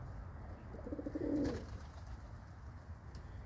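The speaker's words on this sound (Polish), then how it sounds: "Chociaż znacie te gołębie, ale lubicie jak one chodzą po ziemi." A single pigeon coos softly once in the distance, a low throaty call over steady outdoor background noise.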